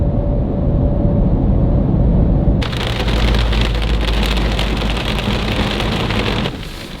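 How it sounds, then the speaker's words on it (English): Steady heavy rain in Kansas pours down, first muffled and low as if heard from inside a pulled-over vehicle, then suddenly bright and hissing as if heard in the open, continuing loudly throughout. "It's raining."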